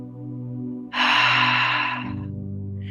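One long, deep inhale through the nose rises sharply and then slowly tapers during a guided breathing exercise, close and clear over a quiet musical background.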